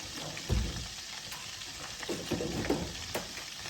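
Semolina roasting in plenty of oil for a Turkish irmik helva, half a kilo in the pan, giving a soft, steady sizzle with a few louder stirring scrapes close by.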